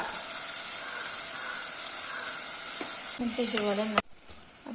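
Fish curry masala with rock salt sautés in a pan under a steady hiss of frying, with a few stirring scrapes near the end and a brief clank before the sound drops, heard close with no talking.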